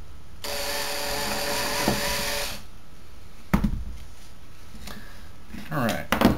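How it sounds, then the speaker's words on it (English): A hand power drill countersinking a hole for a bumper on an Arrma Vortex RC car whirs steadily for a couple of seconds, then stops; a few clicks and handling knocks follow, with faint talk in the background. "countersink it a bit. Which will be fun to do with a hand drill"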